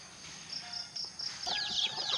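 Native chicken chicks peep in high, thin repeated chirps, growing busier and overlapping toward the end, close by against a faint background.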